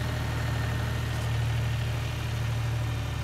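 A John Deere tractor engine runs at a steady idle on a hay farm, a constant low rumble that stays even and close for the whole stretch with no one speaking.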